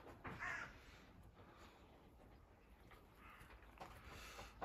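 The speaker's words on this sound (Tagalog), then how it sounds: "May mga uwak nga rito naglalaro kanina pa." Crows caw from a distance, a couple of rough, faint calls separated by quiet outdoor background.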